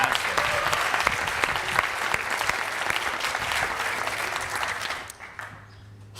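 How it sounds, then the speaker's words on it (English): Applause at a Class of 2020 graduation celebration after a speech, a full round of crowd clapping that holds steady, then fades out to a quiet room near the end. "Can we have another round of applause for that?"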